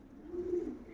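A prize-winning male show pigeon of Johann Schulz lineage gives a soft, low coo that swells and fades over about a second, close and alone with no talk.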